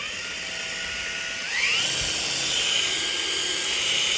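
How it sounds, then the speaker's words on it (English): A Ryobi sander spinning up, a steady whine that rises sharply in pitch partway through and then holds at a higher, louder level with no talking. "This thing is a sander."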